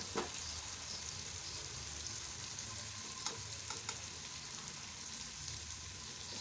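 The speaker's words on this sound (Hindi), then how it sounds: "इसको भूनते हैं, भून के मसाले में थोड़ा सा वाटर डालते हैं ताकि मसाला जले ना" Spice masala with vegetables for an aloo baingan sabzi roasting in a pan, a soft steady sizzle with a few faint stirring clicks, close but quiet, no talk.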